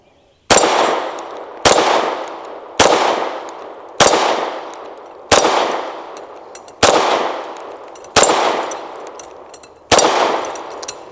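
A Tisas PX 9 Duty Comp pistol fires eight PMC 115 grain rounds at an even pace, each a sharp, loud crack with a long ringing decay.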